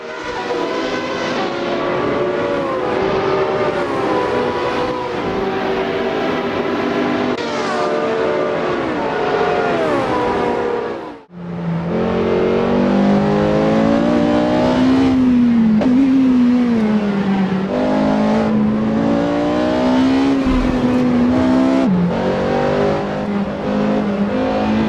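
A Porsche 718 Cayman S races in Assetto Corsa, its engine howling loudly through rising and falling revs, briefly cutting out for a gear change midway before climbing hard again, heard alone with no voices.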